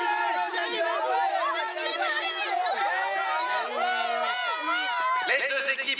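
A stadium crowd at an animated soccer match cheers as both teams return to the pitch, a dense, continuous and loud swell of many voices throughout.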